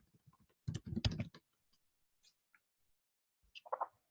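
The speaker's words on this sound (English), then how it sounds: "let's type in InstaBuilder" Short burst of computer keyboard keys tapped rapidly and close, then a quiet gap with a few faint clicks before a second brief flurry of typing, all in a silent room.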